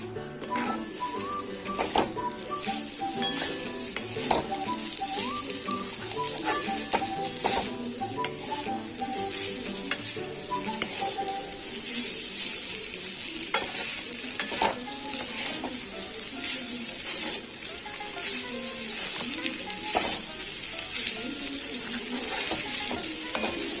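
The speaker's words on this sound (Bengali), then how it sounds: "দু মিনিট আমি ভালোভাবে নেড়ে চেড়ে নেব সব" Chicken and rice being stirred and fried together in a pan for pulao, with steady sizzling and repeated scraping clicks of a spatula over about twenty seconds, no talking.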